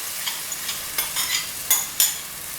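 Cooked toor dal being stirred into a tomato paste in a pan, heard as a soft wet sizzle with several scraping stir strokes close by, the sharpest near the end.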